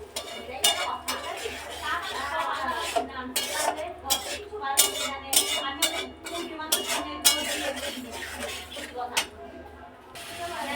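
A spoon scrapes and clinks repeatedly against a pan as spice paste is cooked down with spice water and a little coconut, a busy run of close metallic knocks over a low background hum.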